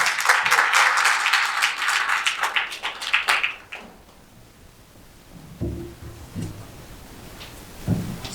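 Applause from an audience at a policy forum rises at once, a crowd of hands clapping steadily for a few seconds, then dies away into quiet room sounds with a few soft thumps.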